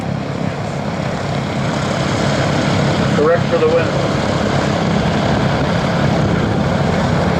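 A P-40 Warhawk propeller fighter flies aerobatic maneuvers at a World War II airshow, its engine a loud, steady drone throughout while an announcer talks over it.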